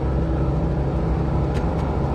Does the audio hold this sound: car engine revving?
yes